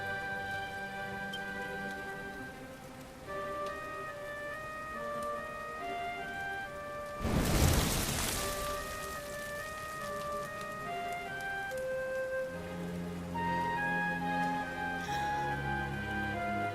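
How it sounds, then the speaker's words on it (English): Steady rain falls in the Dragon Quest XI video game, a soft continuous patter under sustained melodic game music, with a brief louder noisy burst near the middle. "Looks like the rain's dying down."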